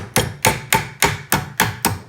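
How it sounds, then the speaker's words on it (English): A leather mallet strikes a wide metal band ring seven times in an even rhythm, each blow a sharp close thud with a short ringing decay, loud and alone. "Now I am hammering with my leather mallet because that will keep it from destroying the texture."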